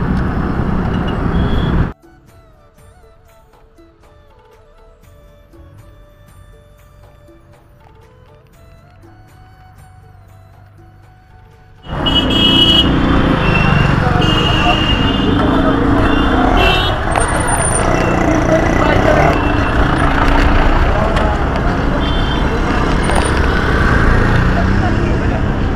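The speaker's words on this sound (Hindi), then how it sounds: "आपने देखा ट्रैफिक बहुत है" Heavy road traffic streams through Ramtek town. After a quieter stretch, a loud, dense roar of passing vehicles sets in and continues, with a voice talking over it.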